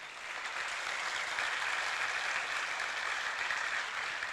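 Steady applause from a crowd at a religious discourse, a continuous wash of clapping that holds at an even level for several seconds with no voices.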